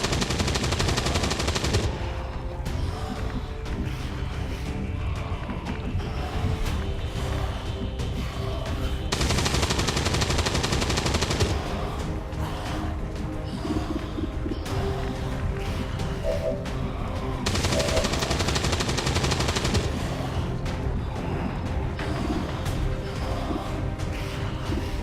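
XCOM video game gunfire rattles in long bursts of rapid automatic shots, with sustained volleys loud and dense and quieter stretches between them containing scattered impacts.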